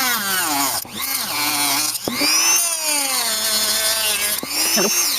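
A power tool cuts off a piece of a wooden shelf at a workbench. The motor whines loudly in several bursts, its pitch sweeping up and down, with brief dips between cuts and no speech.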